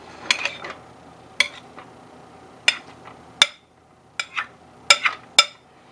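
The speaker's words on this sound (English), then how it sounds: "what you do is you just kind of stir it just a little bit, just to kind of deflate it" English muffin dough being stirred in a bowl to knock it back, with a spoon clinking against the bowl in a handful of sharp, scattered knocks between quieter scraping.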